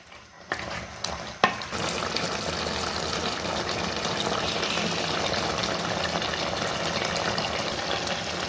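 Country chicken curry sautéing in a pan, a steady close sizzle and frying hiss with stirring scrapes that runs continuously after a brief quiet start, no voices.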